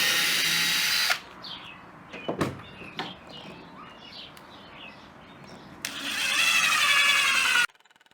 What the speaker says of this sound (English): Just drill another hole and put another screw.